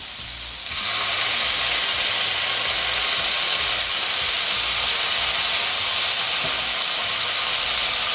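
Soya sauce hits a hot pan of veg fried rice with burnt garlic, a loud sudden sizzle that swells into a steady, close steamy hiss.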